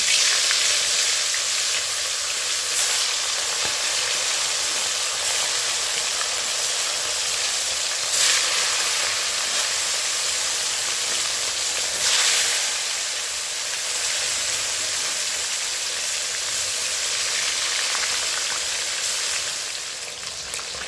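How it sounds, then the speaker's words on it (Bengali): Lailontika fish fry in hot oil in a wok with a loud, dense, unbroken sizzle like heavy rain, close up and steady, with no one speaking. "মাছগুলো আমি ভেজে নেব।"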